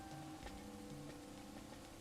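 Steady rain patters on a surface in the video game Dwarf Fortress, a constant soft hiss with scattered drop ticks throughout, mixed with faint tonal game sounds and no talking.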